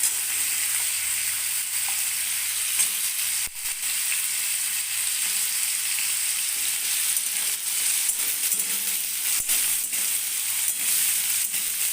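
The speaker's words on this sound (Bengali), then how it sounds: "আলুগুলো একটু হালকা লাল লাল করে আমি ভেজে নেব।" Potatoes fry in a pan, a steady bright sizzle holding evenly for the whole stretch with only a brief dip, close and alone with no voices.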